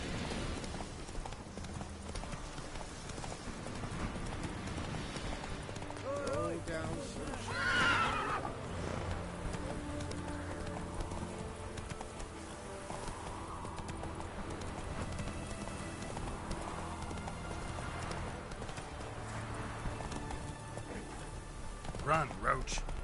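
Roach the horse from The Witcher 3 video game: galloping clip-clop hooves run steadily under game music and speech, with a sharp whinny near the middle and another brief neigh at the end.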